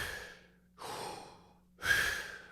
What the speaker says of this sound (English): So if you are breathing like this